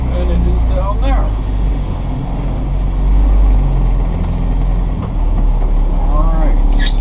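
A 1960 Land Rover 88 seven-passenger station wagon engine rumbles steadily nearby as it is shifted into gear and reversed, with a person talking over the low drone.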